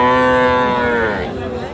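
A cow at a cattle market gives one long, loud, close moo that holds steady and then slowly drops and fades toward the end, with no talk over it.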